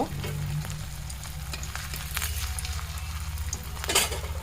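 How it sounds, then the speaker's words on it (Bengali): Fork-patterned pitha snacks frying in hot oil, a continuous bubbling sizzle close up with occasional utensil clinks and a louder burst of crackle near the end. "এখন এগুলো আস্তে আস্তে সবগুলো দিয়ে দিব আর এইভাবেই সবগুলো ভেজে নেব"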